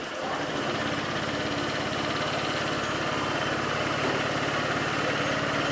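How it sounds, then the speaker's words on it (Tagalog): A car engine idles steadily after its throttle body has been cleaned, a close, loud, even mechanical hum with a constant low throb and no revving, running alone throughout. "Napakaganda ng tunog ng makina."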